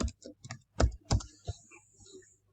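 Keystrokes on a computer keyboard come in short uneven bursts, several close clicks followed by a few sparser taps, fairly near and moderately loud with no one talking.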